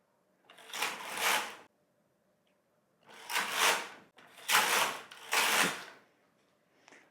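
A Singer Solo hand knitting machine knits rows, its carriage swept across the bed in four separate rasping passes with silent gaps between them, close and clear.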